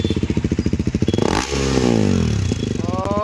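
A KTM Duke 390 motorcycle with a newly fitted exhaust idles with a rapid, throbbing pulse. It then revs up sharply into a loud, rising roar, drops back and revs again, heard close.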